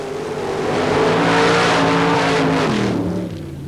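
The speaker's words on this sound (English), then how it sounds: "Craig Underwood in Wild Streak. And Gary, this is a 1927 Model T Roadster" A 1927 Model T Roadster with paddle tires revs at the starting line of a mud race in Bayou George, Florida, its loud, near engine swelling and falling in pitch over a few seconds.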